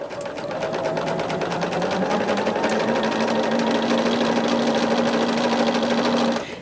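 A sewing machine stitches quilt patches with a fast, even whirring hum that runs steadily at close range for several seconds before stopping.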